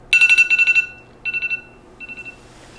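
An alarm clock rings in three bursts of rapid electronic beeping. Each burst gets fainter than the last, and the beeping plays alone.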